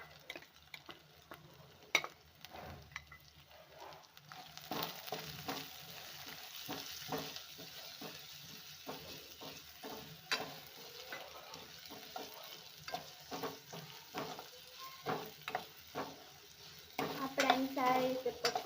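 Onions fry in a pan with ginger, garlic and chilli paste while being stirred. Quiet sizzling runs underneath a series of repeated scraping strokes that continue irregularly throughout, with no voices.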